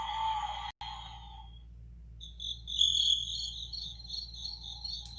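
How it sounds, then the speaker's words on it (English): Steady insect-like chirping, crickets, holds a continuous high buzz through the clip, fading briefly then returning brighter, over a low background hum with no talk. "Crickets."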